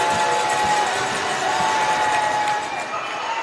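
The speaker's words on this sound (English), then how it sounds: "Crowd making some serious noise here" A loud basketball crowd cheers and roars steadily at an indoor men's college quarter-final game, with a whistle tone cutting through the sustained noise.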